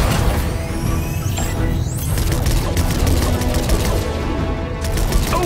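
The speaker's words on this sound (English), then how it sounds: "Laser cannons. Give them a try." Laser cannons fire in a Fortnite battle in a rapid, dense barrage of zapping blasts and crashes, loud and continuous, layered with chaotic game effects.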